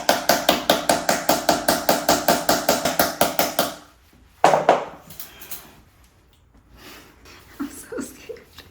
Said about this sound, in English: So what I'm gonna do is just tap on it, try to spook them off if there are any